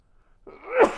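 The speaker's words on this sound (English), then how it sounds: "there's chilies up my nose, gonna sneeze" A single close sneeze set off by chilies, a short drawn-in breath building quickly into a loud, sharp burst at the end.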